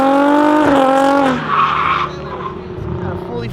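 A fully built drift car squeals its tires loudly in a street race with tandem drifting, a high wailing skid that bends downward, then fades into engine roar and crowd noise.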